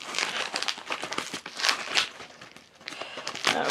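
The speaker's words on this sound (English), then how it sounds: "let's cut this open" Crinkly plastic packaging being cut open during an unboxing of Canadian goods, a close series of crackling, rustling crinkles and snips with uneven bursts and brief pauses.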